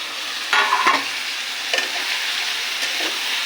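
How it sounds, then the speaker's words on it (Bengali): Tomato paste and soybeans sauté in a pan, a steady close sizzle broken by a few stirring scrapes and clatters of the spoon against the pan. "এটাকে একটু কষিয়ে নেব।"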